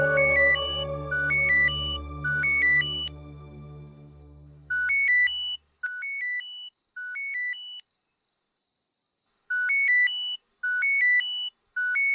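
A phone ringtone for an incoming call sounds in repeated bursts of bright electronic melody with short gaps, after soft background music fades out over the first few seconds.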